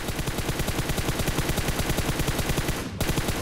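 Rapid automatic gunfire from PUBG Mobile on a snowy island map, a loud fast burst of evenly spaced shots that runs almost continuously, briefly breaking near the end before resuming.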